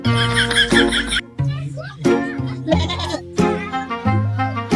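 Goats bleating close by in a rural village setting, several wavering calls in a row, loud and clear with little else around them.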